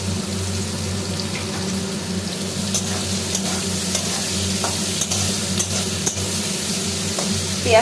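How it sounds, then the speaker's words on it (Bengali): Onions frying in hot oil in a pan while a boal fish dish is cooked, a steady dense sizzle holding at even loudness throughout, close up, with occasional stirring scrapes and no talking. "পেঁয়াজটা লাল লাল করে ভাজা হোক।"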